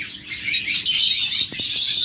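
Pet birds at a sale call in a dense, continuous high chirping chorus, with a few brief lower knocks near the end and no talking.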